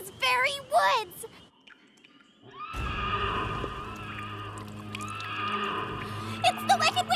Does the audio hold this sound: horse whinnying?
yes